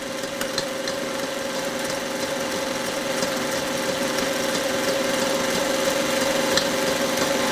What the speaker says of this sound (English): stop the mixer, scrape the bowl, and then beat the yolks again at high speed